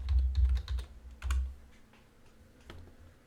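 A computer keyboard typed on in quick clusters of keystrokes, close and crisp, easing into a few scattered taps with a faint hum under it, no talking.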